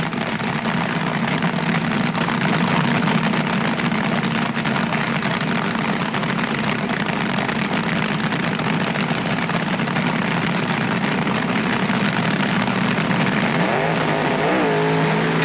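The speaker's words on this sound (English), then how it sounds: "Both cars approaching the staging beams." Loud, steady engine roar of drag racing cars idling and revving at the starting line at the 1977 NHRA Gatornationals, continuous throughout with no talk.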